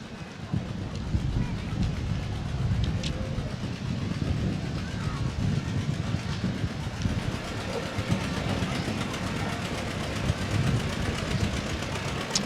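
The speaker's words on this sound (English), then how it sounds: "Listen to that engine hum." Antique hand-started two-cylinder row crop tractor with PTO and hydraulic lift, running steadily at a parade with a continuous low rumble, crowd and street noise mixed in throughout.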